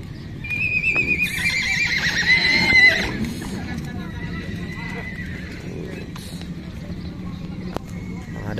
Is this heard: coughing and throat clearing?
no